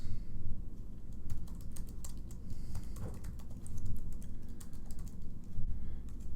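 Fast, steady clicking of keys on a computer keyboard while an email address is entered for Outlook setup, close and continuous over a low background hum.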